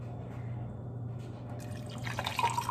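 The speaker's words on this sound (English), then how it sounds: "I'm gonna go ahead and pour some of the coffee into it." Coffee poured over a couple of ice cubes in a cup, a close, steady liquid trickle that grows brighter and louder toward the end over a low background hum.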